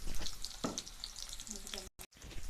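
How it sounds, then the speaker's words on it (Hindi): Onion tempering sizzling in hot oil on a traditional clay chulha stove in a village home kitchen, a soft crackling fry close by with faint background movement and a brief dropout near the end. "अभी ये गोंदली के फोरन देवा है"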